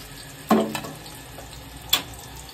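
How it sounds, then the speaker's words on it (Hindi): Chopped onion dropped into hot oil in a pan for a gawar and baingan keema dish, giving a sharp sizzling burst, then a second brief hiss as it is stirred, close by with no speech. "मेरा तेल गर्म हो चुका है, अब मैं उसमें डालती हूँ ये कांदा"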